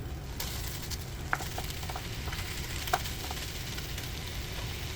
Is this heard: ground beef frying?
yes